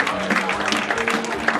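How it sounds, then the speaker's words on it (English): An audience at a magic show claps for a trick with a $100 bill, a continuous patter of hands sounding moderately close, partly mixed with other voices in the room. "Give a big round of applause,"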